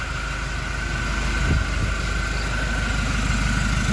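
Diesel engine of a Toyota Innova Reborn idling steadily with a loud, close, even rumble and a faint knocking rhythm, no voices.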